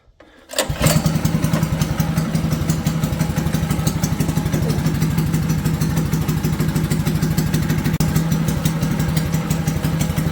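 A Predator 212 small engine on a racing lawn mower starts up and runs steadily on a test drive, a loud, continuous buzzing drone with rapid firing pulses and a clattering edge that holds from start to finish.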